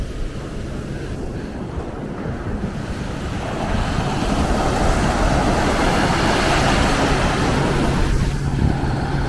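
Ocean waves wash onto a beach while wind buffets the microphone, a loud, continuous roar of surf that grows stronger partway through.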